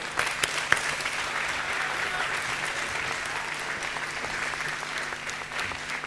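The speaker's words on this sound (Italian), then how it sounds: "Prego, un applauso" A studio audience at a televised talent show applauds a performer, a steady wash of clapping lasting several seconds, a few sharper claps standing out near the start, with faint voices underneath.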